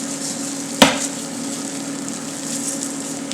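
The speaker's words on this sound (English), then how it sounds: "we're going to let this rice cook in this pan for about 1-2 minutes" Arborio rice toasting with softened shallots in a pan gives a steady, even sizzle, with one sharp tap of a utensil against the pan near the start.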